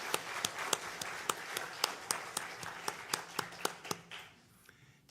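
A church congregation applauds a choir preparing an Easter cantata, with sparse, distinct claps in a loose, slowing rhythm that thins out and fades toward the end.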